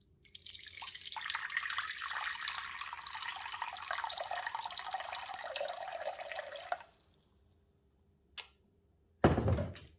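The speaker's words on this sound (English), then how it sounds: "Taking another bowl and then pouring in 700 grams of water." 700 grams of water pours steadily into a bowl for bread dough for several seconds, then stops; a single drip follows and a sharp clunk ends it.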